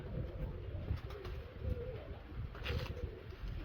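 Pigeons coo softly in low repeated murmurs over a steady outdoor background, with no one speaking.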